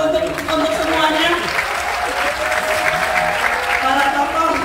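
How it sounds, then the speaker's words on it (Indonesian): Studio audience applause on an Indonesian talk show, a dense steady patter of many hands clapping throughout with some crowd noise mixed in. "Kasih tepuk tangan dong untuk semuanya"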